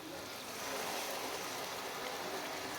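Water from a glass is poured into a pot of cooking daal mash, making a steady, soft rushing splash that runs for a few seconds, fairly quiet and unaccompanied by talk.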